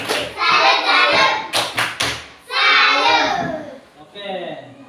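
An Indonesian classroom of children performs the tepuk salut clapping chant, voices chanting together with a burst of sharp rhythmic claps in the middle, loud and close.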